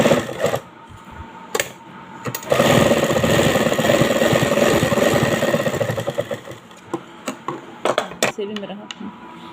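A sewing machine runs a fast, continuous stitching burst along a fabric strip for a neckline design, close and loud, with short clicks and handling knocks before and after.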